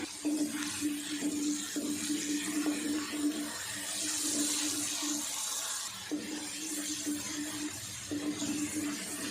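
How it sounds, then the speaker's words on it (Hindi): Water pours steadily for several seconds into frying spices with ginger and garlic in a pan, a continuous splashing hiss with a low bubbling sizzle underneath, no voices. "थोड़ा सा पानी डालेंगे ताकि मसाले हमारे फूल जाएं"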